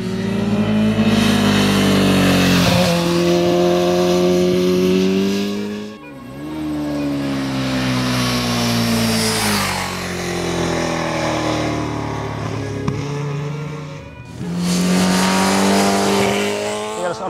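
MV Agusta motorcycles, including an F4CC and a 312R, race on the Taupo track. Loud engines rev and howl through repeated rising gear changes, and a brief dip in the noise comes between the passes. No one speaks.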